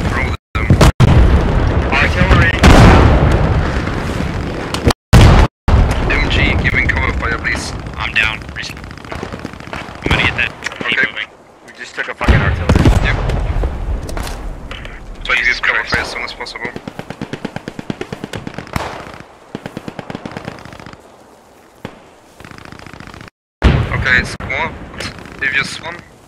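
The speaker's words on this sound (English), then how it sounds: "Artillery! MG" Battlefield din in the game Post Scriptum: booming artillery impacts and bursts of machine-gun fire, loud and close, with rumbling decays and brief dropouts, and people talking over the fighting.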